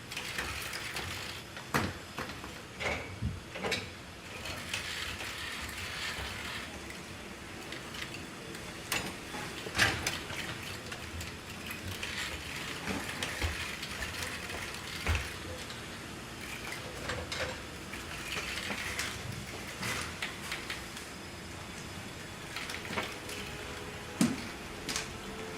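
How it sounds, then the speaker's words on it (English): Neo humanoid robot loading three items into a home dishwasher, giving steady mechanical whirring with ratcheting clicks and small clatters of dishware throughout, close and fairly quiet with no talking. "Next challenge, load 3 items in the dishwasher."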